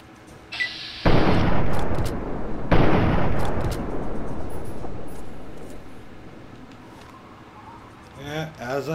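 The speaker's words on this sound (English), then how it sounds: "Just hear a bunch of explosions" A series of heavy, booming explosions in the video game Fallout 3 rolls out, two big blasts followed by a long rumbling decay, with faint chatter near the end.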